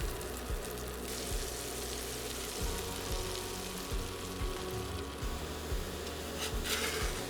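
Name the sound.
quesadilla frying in a pan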